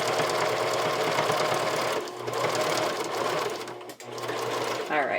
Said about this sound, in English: sew right to the end of your lace there